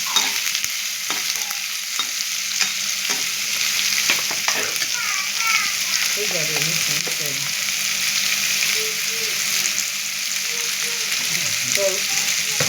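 Snake gourd sautéed and stirred in a pan for kootu, with a continuous sizzle and intermittent spatula scrapes and clatters close by, no speech.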